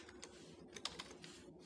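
Typing on a computer keyboard, a quiet run of uneven keystrokes with a few sharper key hits standing out, close and continuous with no voices.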